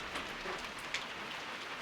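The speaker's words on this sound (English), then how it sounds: "Got quite a bit of rain here." Steady rain falls outdoors on a Monday, a dense, even hiss of drops with a faint patter on surfaces and no voices, constant throughout.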